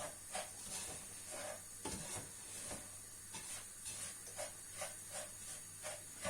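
Semolina roasting slowly over medium heat in a pan for Turkish semolina halva, with a steady soft sizzle and repeated scraping stirs at an even rhythm, close and fairly quiet.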